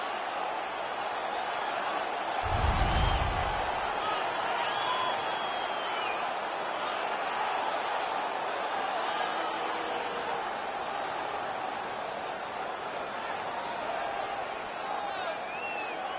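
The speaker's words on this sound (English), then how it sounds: "The home crowd is ecstatic. They're making all kinds of noise." Home crowd in a hockey video game cheers and roars in a brief swell, then a steady crowd murmur continues under constant commentary.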